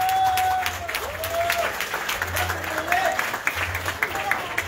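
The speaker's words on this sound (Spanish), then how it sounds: "Fuerte el aplauso para ella." Crowd applause at a political party event in Tijuana, steady and sustained, with a voice speaking over it and low rumbling in the background.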